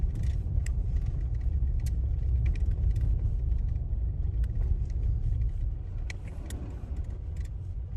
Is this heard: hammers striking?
no